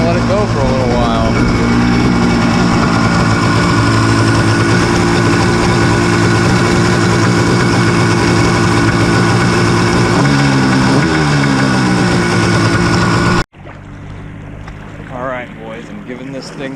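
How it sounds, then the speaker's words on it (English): A DASA engine fitted in a cheap jet ski idles on a hose for cooling, a steady loud droning hum close to the microphone with wind buffeting, then the engine drops out sharply near the end, leaving quieter background. "you just turn up the idle screw and turn on the hose, and just gonna let it go for a little while"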